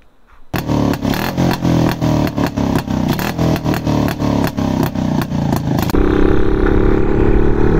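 A modified Rajdoot 175 cc motorcycle engine, loud and close, blipped in a fast series of rhythmic throttle bursts before settling into a steady, rough, continuous run.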